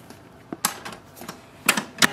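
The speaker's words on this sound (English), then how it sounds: "Wait for the printer to set up and we are ready to use it." An HP LaserJet M139we printer setting itself up after a toner cartridge swap gives a few sharp mechanical clicks and clacks with short whirring bursts, close and fairly quiet with gaps between.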